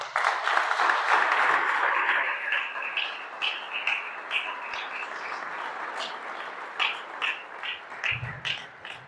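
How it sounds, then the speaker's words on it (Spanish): Church congregation applauding, a dense wash of many hands that starts full and loud, then thins into looser scattered claps toward the end, with a brief low murmur near the close. "Vamos a darle un aplauso al Señor."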